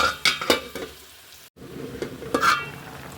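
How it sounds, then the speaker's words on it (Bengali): Tengra fish and tomatoes get stirred in a pan of curry, with sharp utensil knocks and scrapes over a soft sizzle, a short break in the middle, then more clinking stirs. "এক পাশে মাছ আর এক পাশে টমেটো ঢেলে দিয়ে আমি এভাবে নাড়াচাড়া দিয়ে নিচ্ছি"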